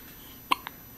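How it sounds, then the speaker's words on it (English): A single sharp hiccup, followed a moment later by a fainter second catch, close and alone against quiet room tone. "Oh, hiccup."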